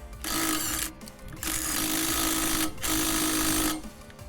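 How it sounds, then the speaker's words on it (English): Three loud bursts of an impact wrench's rapid clacking hammer, removing and fastening a nut on a trailer, each lasting about a second, separated by short pauses. "The clacking sound you hear is the hammer hitting the anvil really fast."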